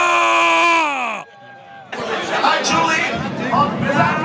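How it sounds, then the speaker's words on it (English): A dense crowd at a football tailgate for Rhein Fire chatters and shouts, a loud babble of many voices rising after a sustained tone and a brief lull. "We're gonna get into the thick of this crowd now."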